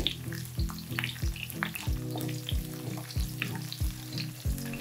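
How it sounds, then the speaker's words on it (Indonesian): Small shallots sautéing in a pan for a thick fish head curry give a continuous close sizzle and crackle, with regular scraping stirs of a spatula about every half second and no talk. "Tumis bawang merah kecil sampai kuning macam tu."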